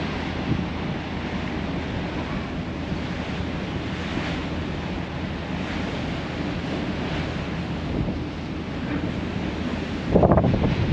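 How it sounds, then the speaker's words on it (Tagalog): Strong wind buffets the microphone on a ferry deck near Nanaimo, British Columbia, over a constant rush of water and engine rumble, with a louder gust near the end. "Wow, ang hangin."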